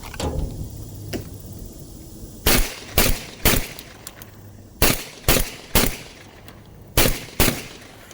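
Beretta A300 semi-automatic shotgun firing outdoors, with sharp loud reports arriving in quick groups of two or three separated by short pauses, nine shots in all and no talking.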